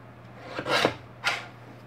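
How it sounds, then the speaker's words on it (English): Cardstock for a handmade Christmas card is trimmed in two quick rasping strokes, each a short close scrape with a brief gap between, and no voices. "Let's try trimming both sides and see how it works."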